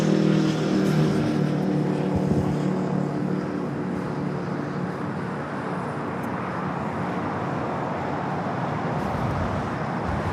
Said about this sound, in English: the A330 rolling down 24 left